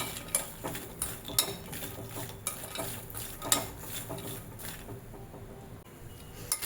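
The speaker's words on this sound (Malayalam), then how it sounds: "ഇത് ചൂടാകുമ്പോൾ നമുക്ക് നമ്മുടെ ലോട്ടസ് സീഡിനെ ഇങ്ങോട്ടിടാം. നല്ലവണ്ണം ഒന്ന് ഫ്രൈ ചെയ്തെടുത്താൽ മതി." Lotus seeds fried in hot oil in a pan, with a steady sizzle under repeated sharp scrapes and clinks of a utensil stirring them against the metal, close and fairly loud.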